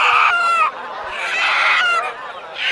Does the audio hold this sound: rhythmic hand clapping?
no